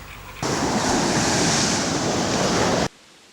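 Sea waves wash onto a beach in a steady, loud roar of surf that fills most of the stretch, then cuts off abruptly, leaving quieter wind in the background.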